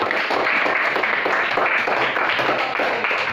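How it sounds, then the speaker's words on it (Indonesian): A classroom of students at an Islamic junior secondary school gives a burst of steady, dense applause that continues throughout, loud and close with no talking over it. "Boleh tepuk tangan untuk."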